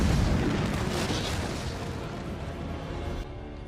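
Spaceship energy weapons firing during a space battle in the science-fiction series Stargate SG-1, a dense, continuous rumbling barrage of blasts and booms that holds steady and loud throughout.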